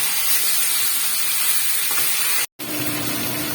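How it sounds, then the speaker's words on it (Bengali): Chicken and potatoes being sautéed for a Bengali kosha give off a loud, dense frying hiss close by, broken by a brief moment of silence before the sizzle resumes; no speech. "এবং চিকেনটাও অ্যাড করব। এবার এগুলো সমেত আমি ভালো করে কষিয়ে নেব।"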